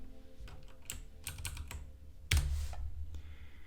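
Typing on a computer keyboard, with quick clusters of close key clicks and a sharper louder strike partway through, heard alone over steady low background hum.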